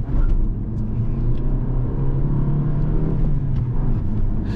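Low, steady engine rumble from inside a moving Fiat Egea sedan with a remapped 1.4 petrol engine of 115 hp, droning evenly with slight rises in revs and no talking.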